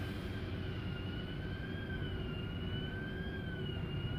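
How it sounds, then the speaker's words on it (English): Distant siren wailing with a slow, rising-and-falling tone over a steady low rumble of background noise, heard from a warehouse setting, no talking. "Hear that stupid siren?"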